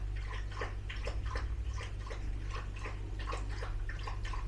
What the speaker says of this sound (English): my dog just drinking a whole liter of water